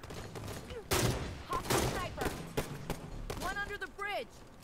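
Sharp bursts of Halo 5 gunfire crack through a competitive 2v2 match, several loud shots and rapid volleys punctuating the action while players talk between them.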